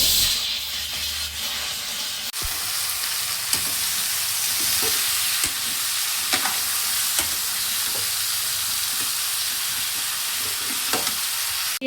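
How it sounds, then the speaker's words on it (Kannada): Onions and green chillies sauté in an oil-filled pan, giving a loud, continuous frying hiss with occasional light taps and scrapes of a stirring spoon, close and steady throughout. "ಮೆಣಸಿನ್ಕಾಯಿ ಹಾಕ್ತಿದ್ದೀನಿ. ಇದೆಲ್ಲ ಈಗ ಬಾಡಿಸ್ಕೊತೀನಿ."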